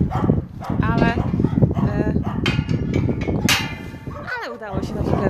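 A large dog barks loudly and close in a series of sharp barks, mixed with people talking nearby.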